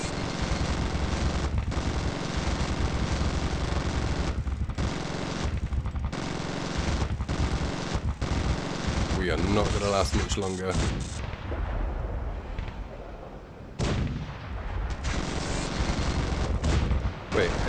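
Continuous heavy gunship gunfire and cannon blasts in the Zombie Gunship Survival video game, dense rapid volleys filling the whole stretch with only brief gaps, while a player talks over it.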